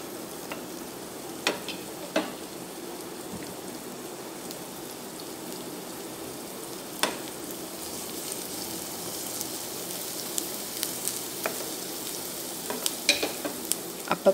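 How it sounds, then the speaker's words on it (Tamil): Chopped onion and garlic sauté in hot oil in a pan, giving a steady close sizzle with occasional scraping stir clicks and a few sharper spatter pops throughout, no voices. "ஆட் பண்ணி நல்லா இந்த எண்ணெயிலே வதக்கிக்கோங்க"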